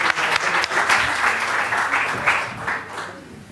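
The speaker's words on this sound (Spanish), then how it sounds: "¿Les parece que le demos un aplauso a Víctor y vamos a la última mesa?" Audience applause at a university plenary reflection session, a steady burst of clapping from a seated crowd that swells and then tapers slightly over a few seconds.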